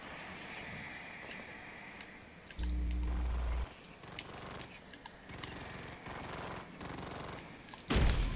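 A bot shooting in CRSED, heard as a long run of repeated gunfire under steady game noise with a low droning tone partway through, ending in one loud close blast.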